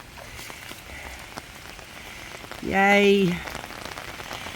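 Rain patters softly and steadily on surfaces outdoors after a dry spell, a faint continuous crackle broken briefly midway by a short cheerful exclamation from a voice.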